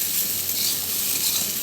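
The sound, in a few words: stirring frying potatoes with salt in a pan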